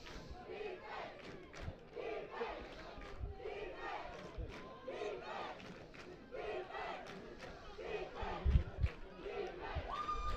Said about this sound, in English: Crowd trying to get into it.